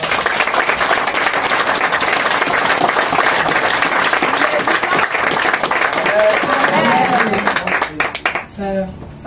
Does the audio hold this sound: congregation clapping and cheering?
yes